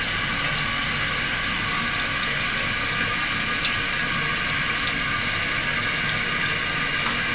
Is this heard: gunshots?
no